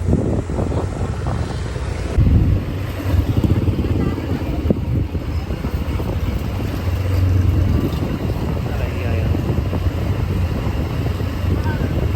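Continuous engine drone and heavy wind buffeting from riding a scooter through traffic in Hue, Vietnam, loud and close, with voices talking now and then over the noise.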